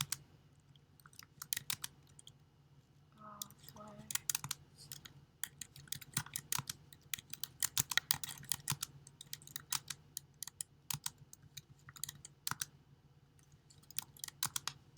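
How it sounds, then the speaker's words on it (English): Steady, rapid keystrokes on a computer keyboard, close and moderately quiet, with sharp clicks continuing throughout and no voices. "So I'll just type in the word tab space."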